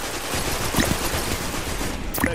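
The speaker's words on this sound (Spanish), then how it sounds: "Al ser un arma o un automático más bien de 450 disparos por minuto" Fully automatic weapon fire in the video game Destiny 2, an auto rifle at about 450 rounds per minute, rattling in a dense continuous burst under loud game noise.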